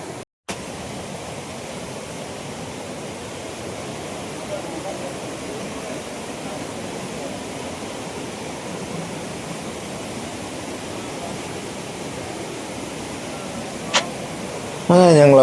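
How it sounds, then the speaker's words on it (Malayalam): A monsoon-swollen waterfall and fast-flowing water beside a temple at Erumeli roar as a constant, broad wash of sound, with only brief handling noises near the start and end. "വെള്ളച്ചാട്ടവും വെള്ളത്തിൻ്റെ ശക്തിയായ ഒഴുക്കിൻ്റെ ശബ്ദവും"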